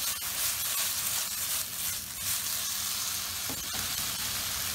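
Crushed garlic cloves sizzle steadily in a hot pan for Lebanese kibbeh, a loud continuous frying hiss with occasional soft scrapes as they are stirred through; no one speaks.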